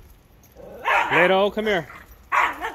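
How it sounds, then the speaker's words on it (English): A dog barks and yips in short bursts close by, irritated by a playful puppy, with a person calling out over the noise. "Puppy wants to play, and the dog does not like it."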